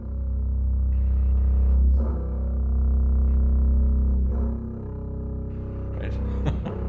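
A looping bowed bass part in a music track: a sustained, low, droning bowed line that repeats with soft swells, steady and full throughout with no voices.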